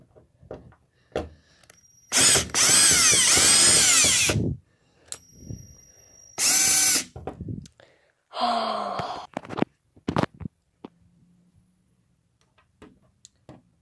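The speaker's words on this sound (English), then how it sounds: "now I'm gonna have to use the drill." Two loud bursts of a power drill whirring as it drives a screw into a 2015 LG LED TV, each a couple of seconds long, separated by quiet handling noises and a softer third whir.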